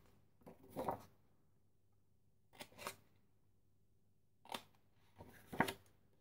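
Scissors snip away the corners of backpack material in four short, crisp bursts separated by quiet pauses, close and faint.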